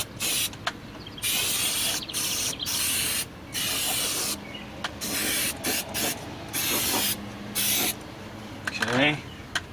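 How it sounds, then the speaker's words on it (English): Aerosol spray adhesive hissing onto the body of a 1979 Chrysler 300 under restoration, in repeated loud bursts of about a second each, separated by short pauses. "I'm going to spray it along here and let it dry, because you're supposed to let this tack"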